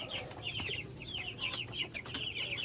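Young broiler chickens cluck and chirp in an enclosed coop, several birds close by in a busy, overlapping chatter over a low background hum.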